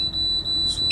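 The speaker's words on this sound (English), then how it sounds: "Reset the alarm." A steady high-pitched electronic alarm tone from an autoloader machine sounds continuously, with brief dips, over a low background hum.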